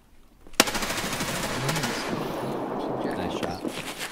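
Gunfire in Escape From Tarkov: a sharp loud shot opens a sustained burst of rapid automatic fire with dense crackling that continues to the end.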